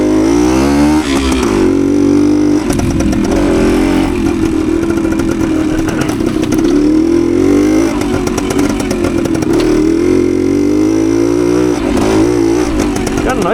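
A 1972 Suzuki TS185 trail bike putters along in second gear just above idle on torn-up ground, its close two-stroke engine buzzing steadily with small throttle swells while the rider talks over it.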